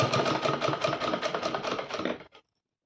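A sewing machine stitching a dhoti salwar, running in a fast, even rhythmic rattle for about two seconds before stopping abruptly, close and clear.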